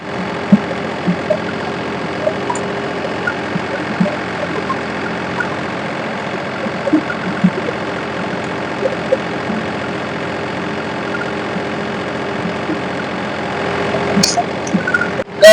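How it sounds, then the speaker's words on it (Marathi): A tractor engine held at 1700 rpm drives a blower, giving a steady, close mechanical drone with a faint harmonic hum for the whole stretch, ending with a brief sharp click. "आता आपला ट्रॅक्टर जो आहे सतराशे आरपीएम वरती चालू आहे"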